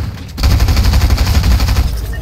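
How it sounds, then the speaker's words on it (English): Shotgun fire in the Fortnite video game: a dense, loud burst of rapid gunfire that starts abruptly after a brief quiet moment and rattles on steadily to the end, with no talking. "A shotgun."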